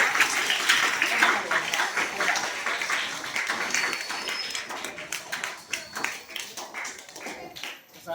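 An audience claps at a study-materials distribution event for hostel students, with steady, fairly loud applause that thins and tapers toward the end.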